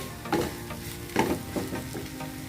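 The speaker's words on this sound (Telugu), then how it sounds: "ఉల్లిపాయలు మగ్గిపోయినాయి" Onions sizzling in hot oil in a pan while being stirred, with a soft steady frying hiss broken by a few louder scraping stirs, close up and with no talking.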